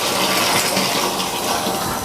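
Water rushing steadily into a tank through a larger pipe, a loud, continuous close gushing fill with no pauses and no talking.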